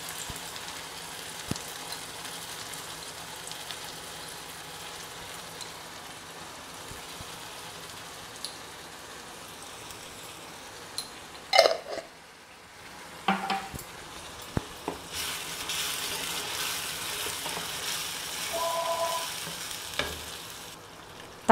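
Tomatoes with salt frying in a pan of sautéed onion for vazhaithandu pulikuzhambu, a steady soft sizzle with occasional stirring scrapes and clinks, close and continuous with no voices.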